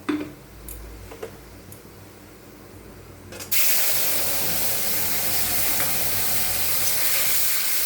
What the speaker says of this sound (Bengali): একটু ভেজে নিয়ে এটাকে আমি আরেকটু ভালো করে ভেজে নেব।